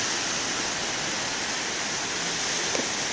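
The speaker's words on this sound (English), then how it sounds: "I must say the waves aren't giants today" Ocean waves of modest size produce a constant, roaring wash of surf, a broad, even hiss with no clear breaks between swells.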